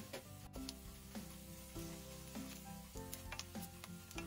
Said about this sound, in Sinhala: මේ වෙලාවේදී අපි මේකට මිරිස් කුරු ටිකක් එකතු කරගෙන ඒ ටිකත් හොඳට තෙලේ කලවම් කරගන්නවා